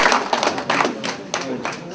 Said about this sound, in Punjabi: ਜ਼ੋਰਦਾਰ ਤਾਲੀਆਂ ਦੇ ਨਾਲ ਦੱਸੋ ਕਿ